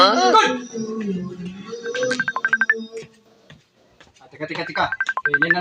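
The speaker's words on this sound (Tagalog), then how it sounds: "Yan nanawag kung cellphone ha," A cellphone rings with an incoming call, a bright repeating electronic ringtone in rhythmic bursts, playing close by between and under people talking.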